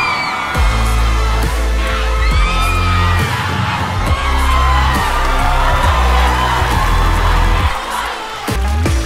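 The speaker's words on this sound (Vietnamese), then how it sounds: "Một tràng pháo tay nồng nhiệt cho tiết mục 10 trên 10." A loud crowd at a Vietnamese TV variety show cheers, whoops and claps warmly for a performance, the roar steady for the whole stretch with scattered sharp bangs and shouts.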